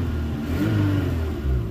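A barn-find car's engine runs and revs close by, its low, rough rumble rising and falling steadily, with no talk over it.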